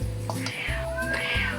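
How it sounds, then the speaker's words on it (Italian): Cats meow in a home kitchen while a potato, green bean and chickpea salad is being made, with several drawn-out, wavering cries close to the microphone and a steady low hum underneath. "Ecco qua, e sono arrivati i gatti."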